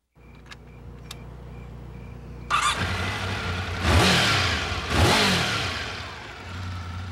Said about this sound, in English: he climbed aboard his red, white, and blue sport bike, apparently just to go for a ride.